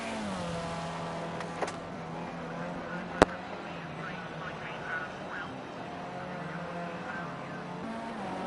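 Formula C race car in Project Cars 2 at Red Bull Ring, a steady engine drone held at a constant pitch for several seconds, with a brief sharp click partway through and a voice talking over it.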